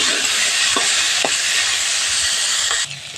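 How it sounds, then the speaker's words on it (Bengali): Vegetables for vegetarian moong dal fry in a pan with a loud, steady close hiss, broken by a few soft stirring knocks. "সবজিগুলো 2-3 মিনিট সময় নিয়ে হালকা করে ভেজে নিতে হবে।"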